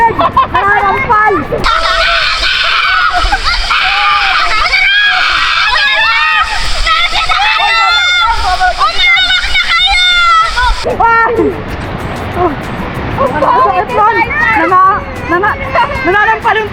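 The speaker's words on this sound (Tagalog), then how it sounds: "Nananampal yung tubig! Grabe!" Swimming pool water splashing and slapping, loud and continuous, under excited shouting and chatter, with rougher sloshing surges in the second half.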